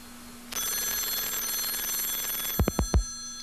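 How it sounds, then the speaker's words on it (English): A computer's phone line rings during an electronic mail call to a voice messaging system, a steady bright electronic tone that holds for about three seconds before a few dull thumps at the end. "And your computer is ringing."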